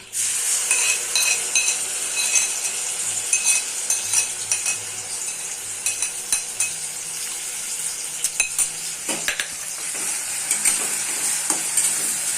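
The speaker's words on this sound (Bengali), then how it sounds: "তেলটা গরম করে নিয়েছি, এবার এটা ঢেলে দেবো" Ground spice paste hits hot oil for a Shim Varta recipe, setting off a loud, steady sizzle with frequent stirring scrapes and clinks of a utensil against the pan.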